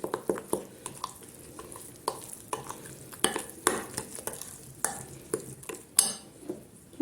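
Batter of flour and water being stirred in a bowl for Black Sea cabbage soup, with a spoon or whisk clinking and scraping in quick, uneven strokes, close and fairly soft, no talking.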